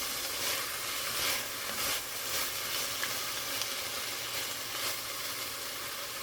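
Elk meat sizzles steadily in a hot pan during a light sear for elk stew, a continuous crackling hiss with no talking.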